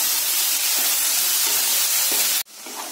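Tomatoes sauté in a pan for egg masala, a loud, bright, continuous hiss with faint stirring knocks. The sizzle cuts off abruptly near the end, then resumes more quietly.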